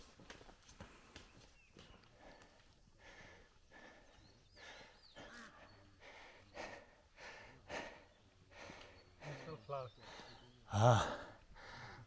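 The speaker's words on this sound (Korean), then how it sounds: "지금 헉헉대는 이유가" Heavy, rhythmic panting from a hiker climbing steadily uphill on the Annapurna trek in the Nepal Himalaya, with close, repeated breaths and gasps that grow louder toward the end.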